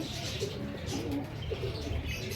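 A breeder's pigeons coo softly in low, rounded murmurs, faint against a steady background hiss, with no one speaking.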